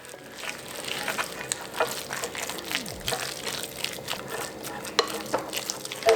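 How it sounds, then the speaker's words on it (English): A chopped shrimp mixture is mixed by hand in a bowl with sesame oil, salt and black pepper. The close, wet stirring squelches and clicks in irregular bursts. "Give this a very good mix so everything is well incorporated."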